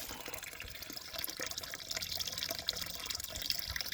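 A rain water catchment tank filling outdoors, water pouring and splashing in a steady continuous rush at moderate loudness, with no one speaking.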